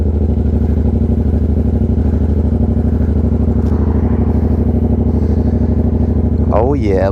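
2024 Yamaha R7 motorcycle engine idling steadily just after a cold start, a loud, close, continuous low rumble with a fast throb, and a brief rising rev near the end.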